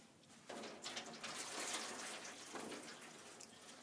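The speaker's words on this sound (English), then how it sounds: "we add hot tap water to the water pan underneath" Hot tap water runs into a food-warming water pan, a soft splashing flow that starts after a moment and continues steadily, fairly quiet.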